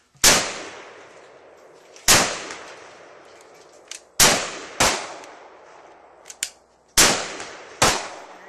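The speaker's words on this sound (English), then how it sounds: "22 lever action rifle." Shots from a Henry .22 lever action rifle at an outdoor range, six sharp cracks spaced roughly a second or two apart, each followed by a short ringing decay, with faint metallic clicks of the action between them.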